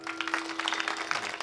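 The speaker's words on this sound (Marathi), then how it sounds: "मी यांच्याकरता एकदा टाळ्या वाजवा" At a kirtan, an audience claps in a brief, dense burst of overlapping hand claps, fairly close, with a low steady hum underneath.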